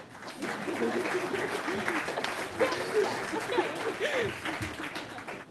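An audience at a school board meeting claps in a steady, moderately loud wash of applause that lasts several seconds, with a few murmured voices mixed in.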